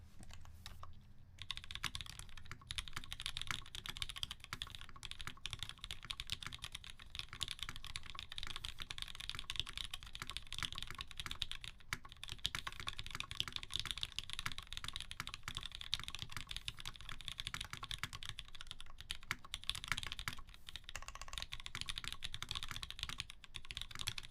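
Fast, steady typing on a mechanical keyboard fitted with SPRiT Slow Extreme V 68-gram springs, close and fairly quiet, with a dense run of clacking keystrokes that continues without pause.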